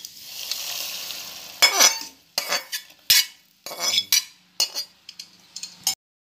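Roasting rava in a pan as an ingredient is added, for rava almond kheer; a soft sizzle, then a series of sharp spoon scrapes and metallic clinks against the pan while stirring, with pauses between.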